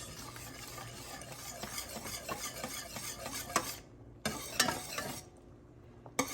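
Wire whisk stirring homemade Alfredo sauce with Parmesan in a pan on the stove: continuous fast rhythmic scraping and swishing with gentle sizzling, pausing briefly, then resuming with a few metal clinks.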